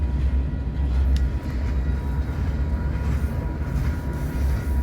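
A westbound freight train, a corn drag, rolls past at a Union Pacific crew-change point, a loud, continuous low rumble of wheels and cars without any break.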